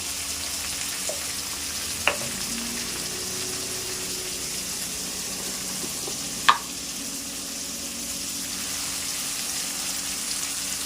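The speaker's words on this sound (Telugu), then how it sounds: "ఆ టమాటాలంతా బాగా మగ్గేదాకా అయితే మనం కలిదిప్పుతూ ఉండాలి" Tomato rice mixture with salt and turmeric frying in a pan, a steady low sizzle throughout with a couple of sharp clinks from stirring, no voices.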